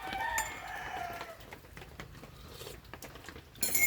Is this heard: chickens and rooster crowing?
yes